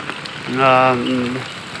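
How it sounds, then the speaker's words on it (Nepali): Heavy rain falls in Kathmandu as a steady hiss throughout, and a voice briefly speaks over the downpour. "पानी ठुलो परिरहेको छ"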